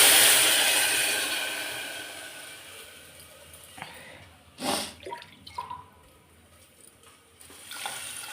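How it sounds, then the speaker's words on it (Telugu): Water is poured into a cooking pot while making a dal and ivy gourd fry, a soft splashing and running sound that fades and breaks into a few short splashes and drips near the end, with no talking. "ఇందులో వాటర్ వేస్తున్నానండి"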